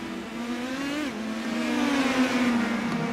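An Indy Pro 2000 race car in the iRacing game accelerates out of the pit lane at Indianapolis Raceway Park, a loud, steady engine whine that dips briefly and then climbs in pitch.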